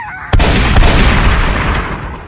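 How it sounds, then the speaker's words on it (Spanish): A cowboy zombie fires a loud gunshot-like blast in Plants vs. Zombies, a sharp boom with a second crack just after, then a thick rumbling tail that slowly fades. "ahí viene y nos está disparando el zombie vaquero"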